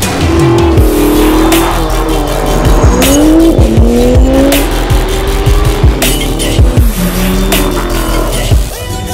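A 2022 Ford Bronco with an AWE dual-exit exhaust fires up loud and close, the engine rumbling and revving in repeated throttle blips with a deep, raspy exhaust note.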